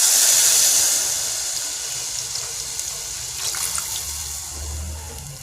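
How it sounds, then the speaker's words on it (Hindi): About a kilo of milk is poured into a pan for sawaiyan (sweet vermicelli), giving a steady, close liquid splash and gurgle. It is strongest at first and then settles into a softer rush with low bubbling. "ये हमारे पास मिल्क है 1 किलो के करीब, ये हम इसमें डाल देंगे।"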